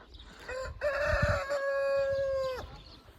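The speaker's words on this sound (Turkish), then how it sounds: "Tavuklar yemleniyor." A village rooster crows once, loud and drawn out, from close by, with a few brief clucks from hens being fed just before it.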